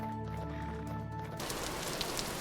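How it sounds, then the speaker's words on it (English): Rain falls in Vintage Story as a dense, even hiss that swells in after a short musical passage and continues steadily with no voices. "this rain is kind of annoying"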